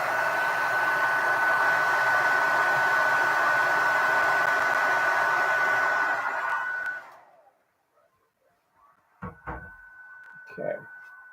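A hair dryer blows steadily and loud for several seconds to dry acrylic base-coat paint on an artwork, then switches off. A few brief knocks and handling noises follow.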